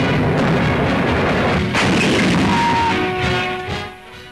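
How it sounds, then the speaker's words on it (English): Shells bursting during an Italian air and naval attack on a Malta convoy under a smokescreen: a dense, roaring wash of heavy booms and gunfire, loud and continuous before easing slightly at the end, with no speech. "Shells falling in the smoke on this side of it"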